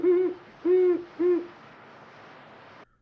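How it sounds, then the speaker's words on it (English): Great horned owl hooting in a film soundtrack, three low resonant hoots in slow succession, fairly close and clear over a faint hiss, followed by quiet. "everyone knows the sound of a great horned owl"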